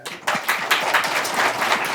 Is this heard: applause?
yes